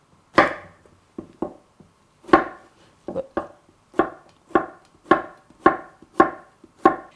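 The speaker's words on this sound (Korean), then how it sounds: "그 다음에 호박은 반달 모양으로" Zucchini is sliced into half-moons on a wooden board, about a dozen crisp knife chops in an uneven rhythm, close and clear with no talking.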